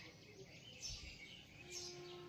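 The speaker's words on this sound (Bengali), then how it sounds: "তার সাথে পাখি মিষ্টি কলতান" Songbirds chirp faintly in the morning on a rooftop rose garden, a few brief high calls standing out over a soft, steady background hush.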